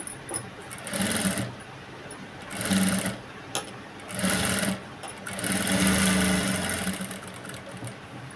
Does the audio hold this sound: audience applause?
no